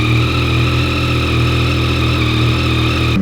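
A 2021 Yamaha MT-09 motorcycle engine idling loudly just after a cold start, a steady, close mechanical drone with a rough low rumble and constant pitch throughout.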